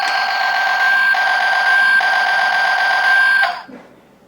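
An Energon Megatron Transformers toy lets out a shrill, steady electronic alarm-like tone for about three and a half seconds, loud and close, then cuts off abruptly into quiet.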